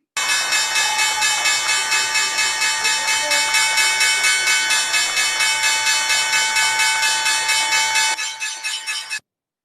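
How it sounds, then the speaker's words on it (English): A stock exchange opening bell rings loudly and continuously with rapid repeated strikes for about eight seconds, then falls silent. "Here's the opening bell."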